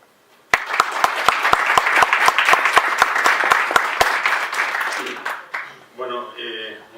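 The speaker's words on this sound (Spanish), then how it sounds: "pido que le deis un fuerte aplauso antes de empezar" An audience at a talk in Cuenca breaks into applause, a dense burst of clapping with sharp individual claps standing out, which fades after several seconds as a voice begins speaking.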